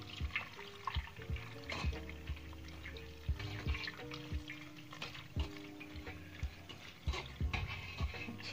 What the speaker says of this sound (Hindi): अब तुरंत इस पर डालेंगे ठंडा पानी।